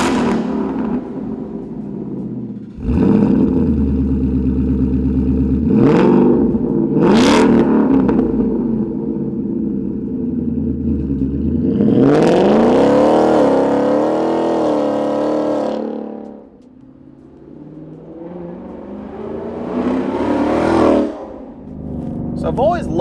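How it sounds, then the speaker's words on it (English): A Ford Mustang GT with a Ford Performance by Borla Extreme exhaust drives on the road. The raspy engine rises through repeated revving climbs, lifts off, then builds again, loud and close throughout. "For an exhaust called the Extreme, it's raspy, it crackles, definitely on the louder side."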